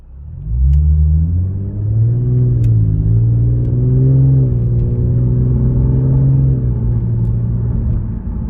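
A 2015 Lexus RC350 F Sport fitted with a Remark axle-back muffler, heard from inside the cabin: a steady, loud, low exhaust drone that swells gently with engine revs, with no talking.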